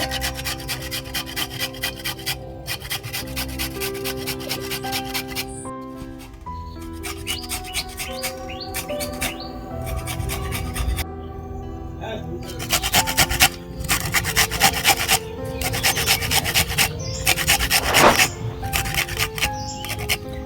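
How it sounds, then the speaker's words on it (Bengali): A carrot is rubbed briskly against a hand grater, producing close, rhythmic raspy scraping strokes in fast bursts separated by short pauses, with occasional knocks. "তো দেখো গাজরটাকে গ্রেট করে নেব"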